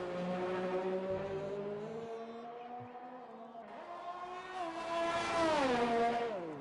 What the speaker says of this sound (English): You hear him trying to modulate that throttle just a little bit.